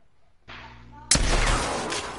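A shotgun blast in the video game Apex Legends, one sudden loud boom that cuts in over a steady hum of game noise, close and sharp with a long roaring tail.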